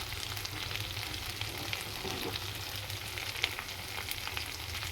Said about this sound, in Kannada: ಇವಾಗ ರೆಡಿ ಆಗಕತ್ತದ ಫಿಶ್ ಫ್ರೈ